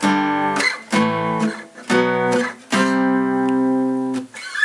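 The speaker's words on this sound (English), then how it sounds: "then you're just going to get the pure power chord sound" Several guitar power chords strummed one after another, each ringing briefly then cut off, clean and tight with clear gaps between hits.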